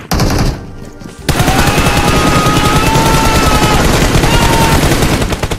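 Rapid automatic gunfire in a mobile shooting video game, sustained bursts of machine-gun fire filling nearly the whole stretch after a brief lull, loud and dense, with no talk over it.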